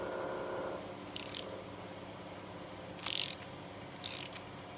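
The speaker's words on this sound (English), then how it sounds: "I'm going to use the wrench to turn it into place" During a 42RE transmission rebuild, a wrench turns a part into place with three short, quiet ratcheting clicks spaced a second or two apart in a quiet workshop.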